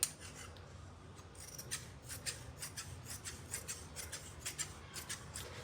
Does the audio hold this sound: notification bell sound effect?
no